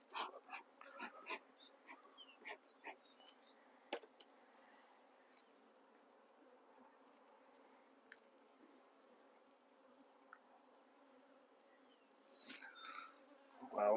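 Honeybees hum in an opened, calm beehive with a faint, steady drone, broken by scattered soft clicks and knocks from handling the hive frames, then louder rustling near the end.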